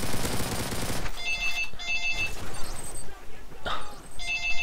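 A telephone rings in repeated electronic trill bursts during PC Modern Warfare 3 gameplay, set against loud gunfire and game noise, with the rings returning several times at a regular interval.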